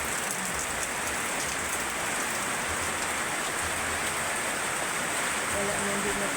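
Heavy rain pours steadily over a camp area with metal roofing, a dense, continuous hiss of downpour that stays loud and even throughout with no break.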